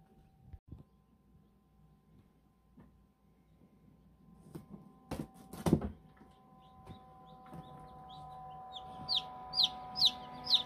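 Newly hatched chicks in a Brinsea Ovation 56 incubator give a run of high, bright peeps toward the end, close and getting louder, over faint hum and handling noises.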